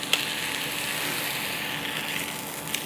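Pork sausage frying in a hot pan, a steady bright sizzle and crackle filling the space, with a couple of sharp pops standing out over the continuous hiss.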